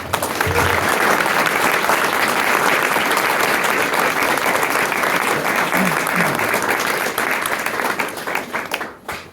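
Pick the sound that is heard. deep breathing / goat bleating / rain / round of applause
round of applause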